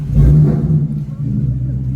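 Deep, steady low-end rumble of a 2020 Ford Mustang GT V8 idling after a spark plug change, with a brief swell near the start, close and loud.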